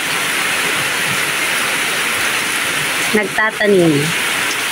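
Steady rain falls in a broad, constant hiss over a backyard vegetable garden, and near the end a voice speaks briefly over the downpour.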